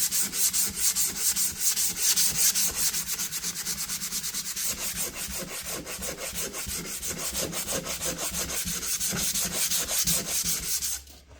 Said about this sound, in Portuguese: Vamos lá, lixa dobrada e vamos fazer